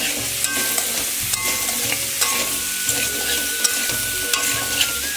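Curry masala being stirred and sautéed in a pan with ginger-garlic paste, a continuous sizzle broken by repeated scraping strokes of a spoon against the pan, close and steady throughout.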